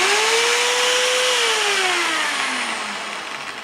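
A high-pitched electric drill motor whines loudly, its pitch rising briefly then winding down as it slows toward the end.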